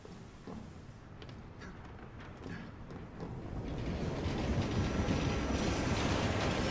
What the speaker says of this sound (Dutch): Kijk daar, een trein van 7 uur.